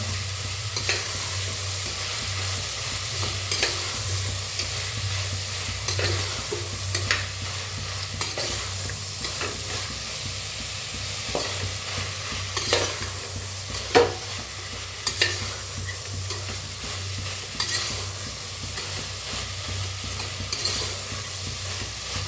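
Sprouted moth beans dry-roast in a pan while a utensil stirs them, giving continuous scraping and rustling with a soft sizzle underneath and occasional sharper scrapes, close and steady throughout.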